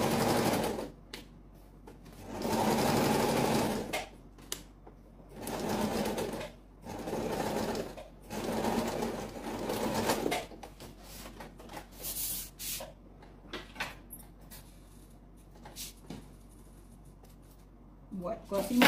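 A sewing machine stitches a foldable pencil case of fabric and zipper in several bursts of running, loudest early on, then quieter intermittent stitching with a voice talking in between.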